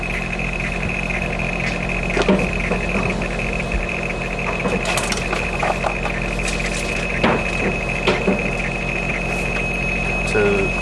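A weather fax machine aboard a racing boat prints with a steady mechanical whine, a constant high tone and irregular clicks and ticks, with engine rumble underneath.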